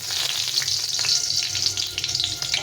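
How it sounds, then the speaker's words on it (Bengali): Dry red chillies, a bay leaf and panch phoron tempering in hot oil for dal sizzle loudly and steadily, with crackling pops throughout and no talk. "এখন আমি এই তেলে আরেকটু তেল দিয়ে এই ডালটাকে ফোড়ন দিয়ে দেবো।"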